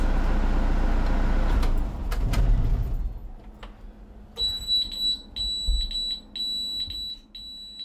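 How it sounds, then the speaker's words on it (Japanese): A kindergarten bus's low engine rumble dies away, then a high-pitched electronic left-child alarm begins beeping insistently in a steady pulsing pattern inside the bus, in Hakodate, Hokkaido. "運転手がエンジンを止めると車内に警報音が響きます"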